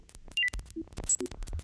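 Experimental texture patch from an Elektron Analog 4 analog synthesizer: scattered blips, short pitched beeps and noisy bursts in an irregular, choppy sequence, with no voices.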